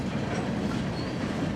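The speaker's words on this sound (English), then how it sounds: "Looks like we got a nice sized train going back north." A long freight train pulled by five locomotives rolls past northbound at Castle Hot Springs, a continuous close rumble with rail clatter and faint wheel squeal.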